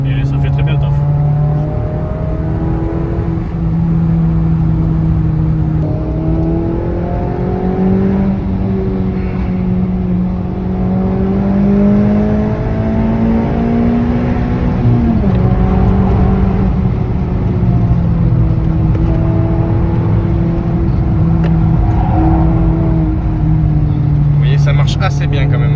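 A Suzuki Swift Sport's engine pulls hard in third gear up to about 120 km/h from inside the car, a loud rising whine that climbs steadily, dips briefly, then carries on, with people talking over it.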